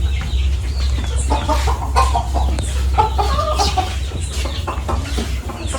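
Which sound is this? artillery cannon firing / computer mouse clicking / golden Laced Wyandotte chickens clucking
golden Laced Wyandotte chickens clucking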